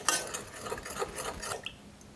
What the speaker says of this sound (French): Là, vous mélangez bien.